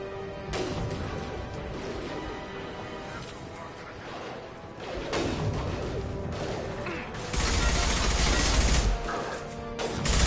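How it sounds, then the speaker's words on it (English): Concussive shot ability firing in Mass Effect 2: loud combat crashes and bursts with a heavy impact near the middle and a dense, sustained barrage toward the end, amid game sound. "Firing concussive shot."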